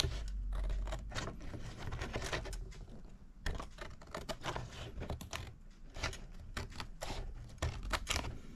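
Scissors trim the edges of paper pages for a handmade album, a series of soft, close crisp snips and rubbing sounds spread throughout, fairly quiet.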